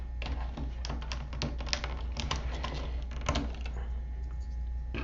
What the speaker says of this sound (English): First thing we want to do is take out all the keys, and you just pull them out by hand.